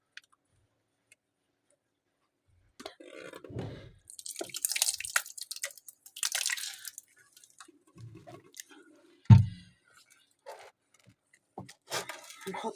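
Tomato sauce is added to a stuffing mixture for mahshi, heard as close, wet squishing and dripping splats with scattered clicks and one heavier plop, irregular and fairly quiet.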